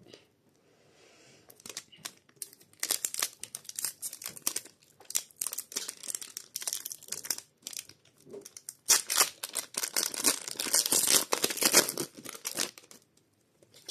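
Crinkling and tearing of a Pokémon trading card booster pack wrapper from the Stellar Crown set, loud and close, with bursts of crackling plastic across the clip.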